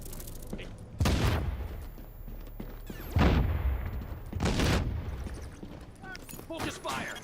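Gunfire in the shooter game The Division, with several loud bursts of shots and booms in rapid volleys across the span, mixed with game effects and voices talking.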